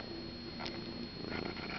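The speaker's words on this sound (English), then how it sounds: "See you purr." A kitten's soft, low purr, heard up close and quiet, a steady rumble with a small rustle partway through and no talking.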